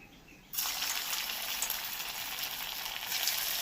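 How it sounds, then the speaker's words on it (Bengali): Soybean muitha dumplings dropped into hot oil, a sudden burst of dense, crackling sizzle after a quiet moment that then holds steady and loud, with no talking. "তেলটা গরম করে নিয়েছি এবার এগুলোকে এক একটা করে ভেজে নেব"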